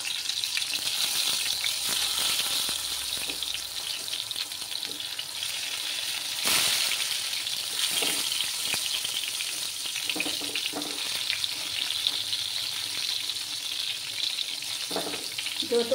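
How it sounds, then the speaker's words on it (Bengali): Pieces of eggplant sizzle steadily in hot oil for a vegetarian doi begun, a dense close frying hiss with occasional pops and louder bursts as more pieces drop in, no voices. "তেলটা গরম হয়ে গেছে, এবার আমি একে একে বেগুনগুলো দিয়ে দিচ্ছি।"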